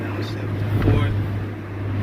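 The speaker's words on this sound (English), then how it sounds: "Downshift to fourth." A 1991 Honda Civic EF with a swapped-in D16 engine drones steadily in low gear right after a downshift to fourth, heard from inside the cabin under a person talking.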